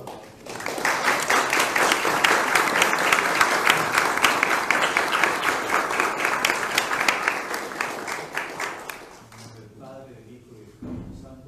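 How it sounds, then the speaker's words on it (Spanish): A conference audience bursts into sustained applause, dense clapping holding steady for several seconds before tapering off, followed by a brief low thump. "le damos un aplauso merecido"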